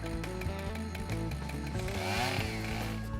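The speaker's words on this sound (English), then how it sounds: "Turn off the choke and start the saw." Chainsaw started with the choke off, a close, loud, rough two-stroke engine sputtering and revving unevenly, with no voices over it.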